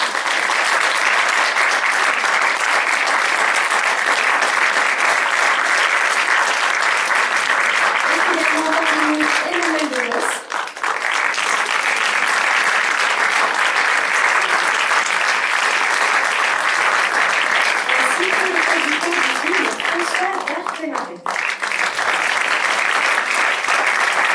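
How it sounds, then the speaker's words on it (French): At a film premiere, an audience applauds the film's team in loud, dense, sustained clapping that barely lets up, with brief cheers or voices rising through the applause at a couple of points. "Et je vais vous demander d'accueillir chaleureusement l'équipe du film qui est avec nous. Merci de les applaudir."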